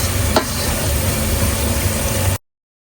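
Squid cooks with garlic and Espelette pepper in a pan over low heat, giving off a steady, even sizzling hiss for about two seconds before it cuts off.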